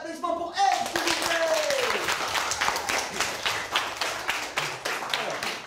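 Applause and cheering from a live audience at a slam poetry workshop event in Reims greet the next performer, a dense steady roar of clapping that swells after a spoken introduction and keeps going.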